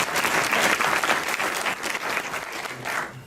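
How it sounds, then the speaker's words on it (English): An audience at a panel event applauds the co-panelists, a brief burst of dense, even clapping from many hands, fairly close and steady throughout. "Can we have a round of applause?"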